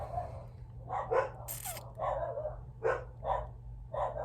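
Several dogs bark in sharp, repeated bursts nearby, with short pauses between volleys.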